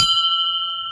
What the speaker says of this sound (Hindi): यहाँ पे है घंटी, इसे बजाते हैं हम